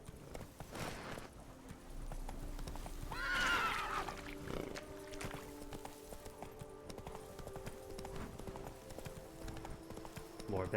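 Roach the horse in a video game, with rhythmic hoof clip-clops and a short whinny, fairly quiet and close, over a low ambient backdrop.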